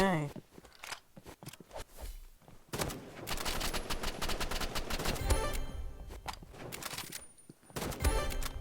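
Rapid gunfire from the shooter video game Rivals, dense bursts of shots filling most of the stretch, with brief pauses, heard loud and close through game audio.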